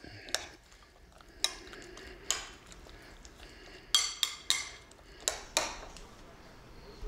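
A spoon stirs a breakfast mix of protein powder, blueberries and flaxseed in a bowl, giving about nine bright clinks and scrapes at uneven intervals, close up against a quiet background.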